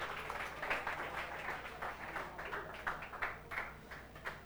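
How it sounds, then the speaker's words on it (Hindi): Students in a classroom applaud two classmates, a light, fairly faint patter of clapping hands that continues steadily for several seconds without voices. "ताली बजा दीजिए इन दोनों के लिए।"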